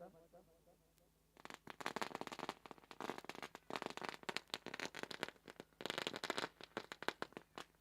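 Firecrackers go off at a local cricket match to welcome guests, a dense run of sharp crackling bangs after a quieter start, with a voice talking over them.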